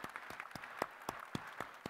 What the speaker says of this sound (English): let's take a moment and applaud that